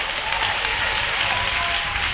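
A church congregation applauds and cheers in praise during a service, a dense, steady wash of clapping that fills the whole moment with no clear speech.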